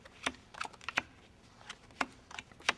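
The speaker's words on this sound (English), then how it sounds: "deal the cards out one more time." Playing cards are dealt one by one onto a table during a 21-card magic trick, giving a string of soft, quick, irregular slaps and flicks, fairly quiet and close, with no talking.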